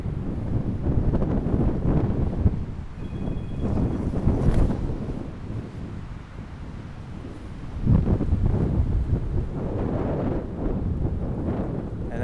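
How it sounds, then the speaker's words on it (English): Strong outdoor wind buffets the microphone in continuous low rumbling gusts that swell and ease over several seconds, with no voices. "Ah, this wind"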